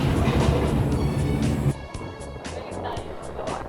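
A Taipei metro train rumbles loudly while pulling in to a stop, its heavy low drone cutting off abruptly partway through, after which quieter clanks and rolling noise continue.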